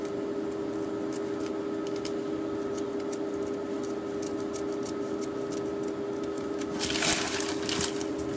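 Scissors snipping around a fabric appliqué, a steady run of small crisp cuts close to the mic over a constant electrical hum, with a louder burst of snips near the end.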